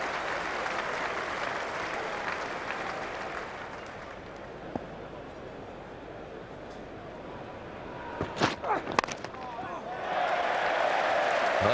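A cricket crowd at the 2005 England v Australia Ashes Test applauding and cheering a boundary, a murmur under a commentary voice that swells into loud sustained clapping and cheers near the end.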